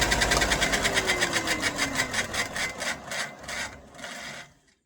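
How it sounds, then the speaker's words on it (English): A cleaning stick is rubbed across sandpaper in quick, regular rasping strokes, about four per second. The strokes are close and fairly loud, slow and fade toward the end, and then stop. "if you just run it across it, it cleans the sandpaper"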